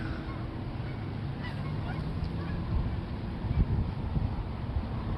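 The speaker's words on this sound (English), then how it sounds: "And that's a lot of geese." Geese honk overhead: a scattered flock calling from some distance, faint honks over a rough bed of wind and outdoor rumble.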